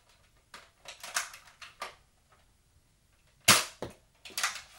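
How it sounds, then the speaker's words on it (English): A Nerf Strongarm blaster fires foam darts in a handful of sharp, snappy pops spaced over a few seconds, each with a quick mechanical clack, close and fairly clear. "I'm only going to shoot 4 darts."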